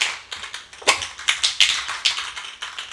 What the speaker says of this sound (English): You just take your spray can, shake it up